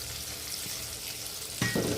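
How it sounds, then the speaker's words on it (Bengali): Green chillies, turmeric, cumin and coriander powder fry in a pan for paneer curry, a steady close sizzle that jumps louder near the end as something is stirred or added. "দিয়ে একটু জল দিয়ে কষাবো।"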